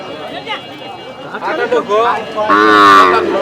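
Calf and cattle at a livestock market, with a loud moo rising near the end over crowd chatter and someone talking throughout.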